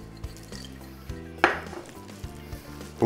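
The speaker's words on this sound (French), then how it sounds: "bien mélanger aussi" A utensil stirs pâté en croûte filling mixed with pistachios, making soft scraping and a few sharp clinks against the bowl, close and quiet.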